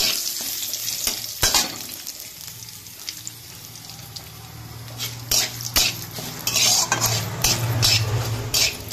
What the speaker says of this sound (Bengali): তো কারি পাতাটাকে আমি একদম ভালো করে ভেজে নেব।